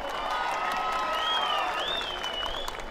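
Applause from a large outdoor audience at a festival concert stage, a steady crowd clapping throughout, with whistles or a tonal squeal riding over it.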